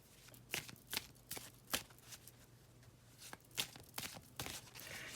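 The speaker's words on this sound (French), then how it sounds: "Je vais positionner les cartes." Tarot cards being shuffled and laid out, a series of soft riffling swishes and light slaps in an irregular rhythm, close and quiet with no talking.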